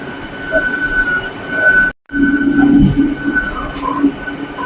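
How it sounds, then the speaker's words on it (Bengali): Howrah to Panskura local train running on rails, a loud close rumble with rolling wheel noise and a faint squeal, cut by a brief dropout midway. "এটা হচ্ছে পাঁশকুড়া লোকাল 178-529 হাওড়া টু পাঁশকুড়া"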